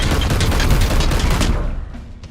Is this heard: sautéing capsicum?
no